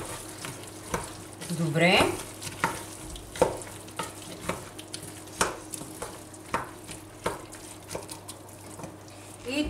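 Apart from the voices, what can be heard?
stirring frying vegetables for vegan moussaka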